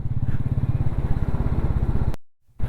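A motorcycle ridden at night on a rainy mountain road toward Badrinath, its engine a loud, close, steady low thumping pulse that cuts out abruptly near the end before sound returns.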